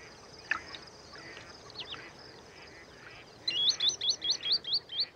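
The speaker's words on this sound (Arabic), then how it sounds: "وتزور آلاف الطيور هذا الملاذ" Birds chirp in the distance over quiet ambience at an Arabian bird refuge, then a rapid series of high, repeated calls rings out clearly near the end.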